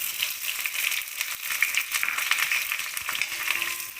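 Onion, garlic and chana dal frying in oil for the tempering of a banana stem curry (posola), giving a steady close-up sizzle and crackle throughout.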